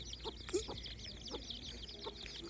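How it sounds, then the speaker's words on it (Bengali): Chicken chicks clucking and cheeping in scattered short calls, fairly faint, over a steady low background hum. "মুরগি বাচ্চা"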